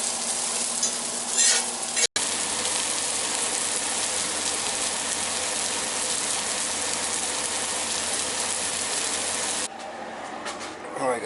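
Onions and green peppers frying in a pan, a loud, dense, close sizzle running steadily with a brief cut early on, then dropping to a quieter fry near the end.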